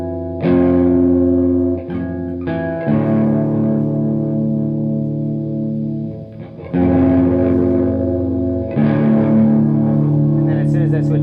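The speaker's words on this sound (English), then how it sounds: "it's very deep reverb, gives it more of like a white noise when you're in the full section" An electric guitar plays sustained, heavily reverberant chords that wash into a dense, distorted haze, with new strums every few seconds and long ringing tails.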